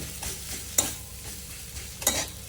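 A spoon stirs dabeli potato filling in a hot pan, giving a steady frying sizzle with two sharper scrapes against the pan, close and alone.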